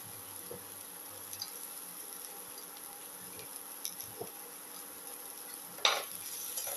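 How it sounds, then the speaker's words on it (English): Ginger sautéing with onion in a pan gives a quiet, steady sizzle broken by light utensil taps, then a louder stirring scrape near the end. "saute ginger to the"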